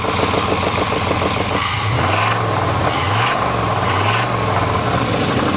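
A 1988 Chevrolet truck engine with rod knock and crank knock runs loud and close, a rough, continuous rumble with a knocking undertone throughout.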